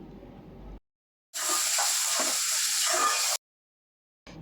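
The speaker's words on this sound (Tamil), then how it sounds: "எல்லாமே நல்லா வதக்கிக்கோங்க" Onions and tomatoes with salt and turmeric sautéing in a pan for chicken biryani, giving a bright, steady sizzle that runs for about two seconds between stretches of quiet, with no one speaking.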